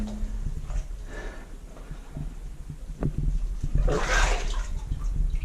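Water sloshing and churning as someone wades through deep water in a mine, swelling into a heavier splashing surge near the end.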